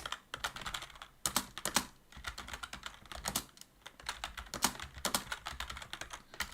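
A computer keyboard is typed on in quick, uneven bursts of soft clacks with short pauses between runs, close and fairly quiet.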